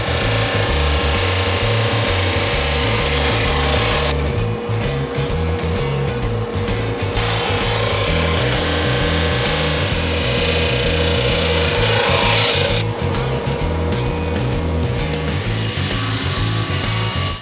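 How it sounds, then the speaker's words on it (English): A drum sander planes strips of exotic wood down to thickness, a loud continuous motor roar with a rough rhythmic grinding as each strip feeds through, and short shifts where one pass ends and the next begins. "Now I pass these through my drum sander to get them to a perfect 1/8 thickness"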